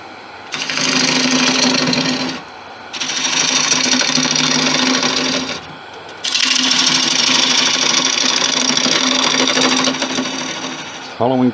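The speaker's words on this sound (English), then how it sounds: "now we'll start hollowing these wings out" A woodturning tool hollows angel wings turned from 5000-year-old bog oak on a lathe, a loud rasping cutting noise in three long sustained bursts separated by short pauses, close and dominant.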